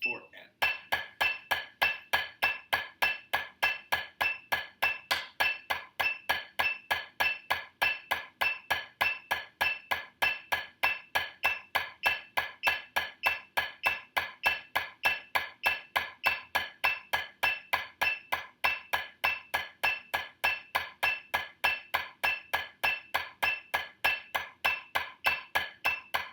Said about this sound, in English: So this is exercise 2, stick control 1. This is going to be in eighth notes.